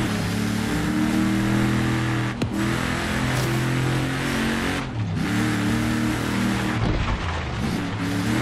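A 2017 Ford F-150 Raptor in Forza Horizon 3 revs and drives, its engine droning steadily with a strong low hum, briefly dropping and surging at shift points, loud and continuous without any talk.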